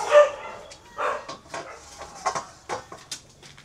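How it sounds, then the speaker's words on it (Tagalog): Several rescued dogs bark and yelp in quick, uneven bursts around feeding time, mixed with higher whining cries, fairly close. "Diyo, ingay mga aso."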